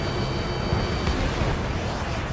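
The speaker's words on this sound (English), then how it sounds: "Missile hit." Missile strike exploding in the jet combat game Ace Combat, a heavy rumbling blast with a continuous roar of jet engine and low booms underneath, loud and dense throughout.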